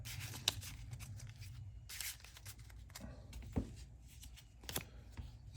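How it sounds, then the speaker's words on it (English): Quiet papery rustling and riffling with a few soft sharp flicks, like a Marvel Champions card deck being shuffled close by, with no voices. "Shuffle up and draw a card."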